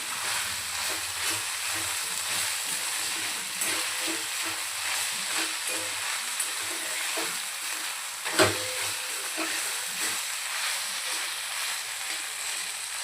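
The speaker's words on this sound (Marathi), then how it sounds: "आपल्याला छान पाच ते दहा मिनटं आपल्याला असं परतून घ्यायचं आहे तेलामध्ये" Finely chopped vegetables sauté in hot oil for chicken momos, a steady close sizzle and hiss with soft stirring scrapes and one brief louder clack, no one talking.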